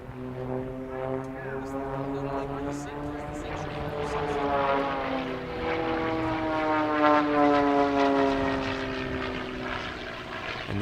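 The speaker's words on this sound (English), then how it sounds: "with 2 aircraft flying in opposing directions along the A axis and the third arriving on the B axis" Propeller aircraft of an airshow display team sweep past in formation at the Quinte International Airshow, engines droning with rising and falling pitch as they approach and pass, loud and sustained while a commentator talks over the sound.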